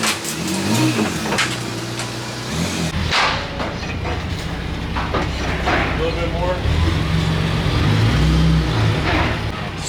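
A Ford Raptor truck engine rumbles and revs steadily at close range as it creeps forward onto a dyno, its low drone rising and falling, with voices talking over it.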